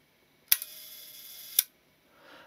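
Mamiya-Sekor 1:3.5 f=100mm leaf shutter for a Mamiya Press camera firing at a one-second speed: a sharp opening click, a faint steady whir for about a second, then a crisp closing click, close and isolated.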